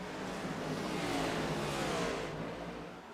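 Stock cars in a racing video game at Richmond roar past in a sustained engine drone, swelling and then easing off as they accelerate through the turn; no voices are heard.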